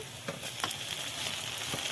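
Onions fry in a pan as garlic paste goes in, giving a soft, steady sizzle with a few light stirring clicks, quiet and close.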